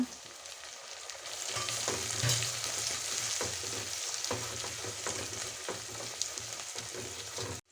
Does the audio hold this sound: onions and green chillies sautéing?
yes